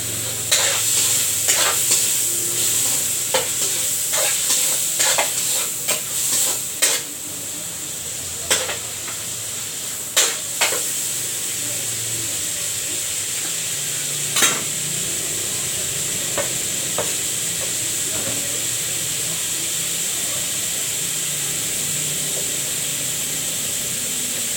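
Pork and carrots stir-fried in a pan, a steady close sizzle with repeated scraping and clacking strokes of a spatula, the strokes busy at first and then sparser over continuous frying hiss.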